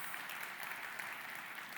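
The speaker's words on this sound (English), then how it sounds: "Applause? Yes." An audience at the Envision 2025 technology event at the Atlantis, The Royal applauding, a brief, dense patter of many clapping hands heard at a moderate distance.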